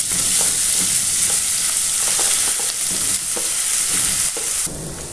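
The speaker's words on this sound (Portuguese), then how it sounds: "Já vou jogar a cebola agora aqui nesse, junto com a linguiça." Sausage and onion fry steadily in a pan, a loud continuous sizzle broken by occasional stirring scrapes, close up with no talking.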